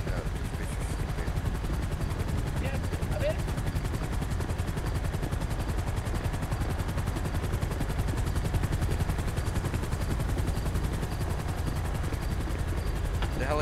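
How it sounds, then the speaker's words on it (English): A helicopter lands in a video game, its rotor producing a steady rapid chopping thud that stays loud and close throughout, with scattered game sounds and faint talk beneath. "the helicopter's landing"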